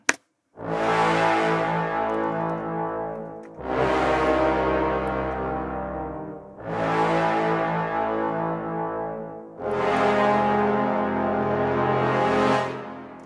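Orchestral mock-up playback of four long sustained chords, each swelling and then easing off, with brief gaps between them and full, loud ensemble tone.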